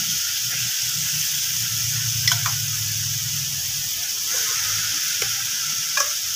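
Minced mutton in a hot pan gives a steady close hiss of frying, with a few light spatula scrapes and taps and a faint low hum beneath, no talk.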